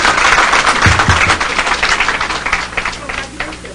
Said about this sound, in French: je voudrais que vous l'applaudissiez très fort